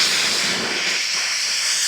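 A brushless electric air duster rated at 150,000 RPM blows dirt out at high speed, giving a loud, continuous hiss that stays steady throughout.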